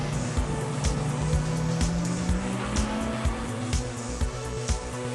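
GT race cars roar through the Spa 24 Hours circuit at the bus stop chicane, a loud engine note climbing in pitch as cars pass, with repeated sharp bursts and tire noise throughout.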